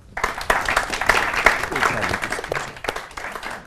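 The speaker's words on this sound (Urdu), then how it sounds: "ساری تالیاں" An audience applauds after a speaker at a televised Pakistani debate competition, giving a dense, steady burst of clapping that holds for several seconds, with some voices mixed in.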